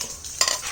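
Garlic, ginger and onions hitting hot oil in a pan for stir-frying, a steady broadband sizzle that swells brighter midway, close and continuous with no voices.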